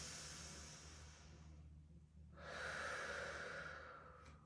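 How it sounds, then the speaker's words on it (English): Slow, deep breaths during yoga practice with hypopressive breathing: a long airy exhale, a brief pause, then a fuller, louder rushing breath, close and alone. "One more breath."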